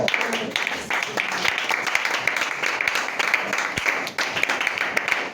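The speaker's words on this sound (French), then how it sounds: "Acclamons très très très fort." A church congregation applauds, a dense, lively burst of many hands clapping, with voices mixed into the crowd noise.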